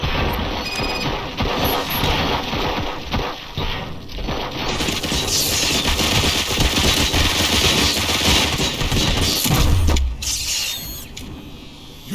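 Loud, dense gunfire and mechanical clatter fill a firefight in the video game RoboCop Rogue City, with continuous crashing, rattling shots and impacts close up, barely letting up for twelve seconds.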